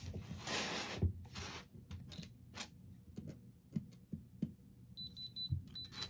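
A Supreme diamond tester checking moissanite stones on a chain, giving a few short high electronic beeps near the end amid handling clicks and rustles close by.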